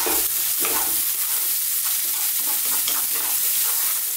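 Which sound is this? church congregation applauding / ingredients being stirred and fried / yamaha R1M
ingredients being stirred and fried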